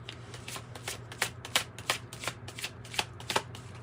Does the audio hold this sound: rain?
no